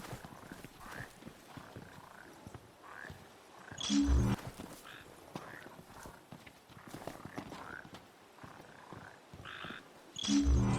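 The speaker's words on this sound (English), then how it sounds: "you just need to listen to the frogs to lock onto their position and find them" Yellow frogs croaking in the video game Final Fantasy XV, giving a soft repeated croak over a low ambient game background, with two louder bursts partway through and near the end.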